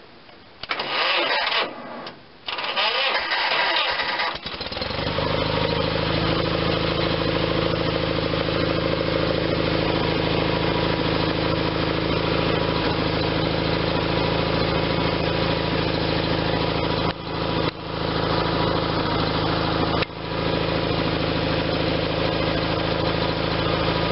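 A John Deere 318 lawn tractor's Onan engine cranks briefly, catches and then settles into a steady, loud idle that runs on with a couple of short dips in level.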